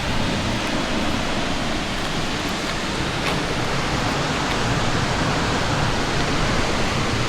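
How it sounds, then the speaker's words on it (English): A waterfall in Norway roars as a loud, unbroken wash of rushing water, steady and close throughout, with no voices. "we need to take a look at the waterfall"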